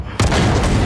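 A warship's main guns fire a salvo in a naval video game: one heavy, booming blast that hits hard and then rumbles on loudly.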